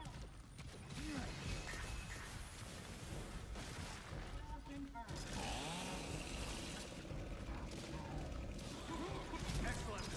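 A chainsaw weapon from the Gears of War video game grinds and revs continuously amid rattling gunfire and game effects, with a voice talking over the dense battle noise.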